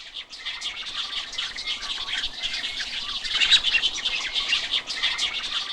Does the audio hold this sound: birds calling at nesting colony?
yes